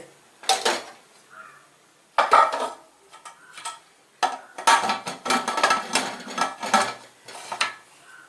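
Metal pots clank and scrape in short bursts, a vessel of thiruvathirai kali being set down inside a pressure cooker with several clattering knocks and rattles.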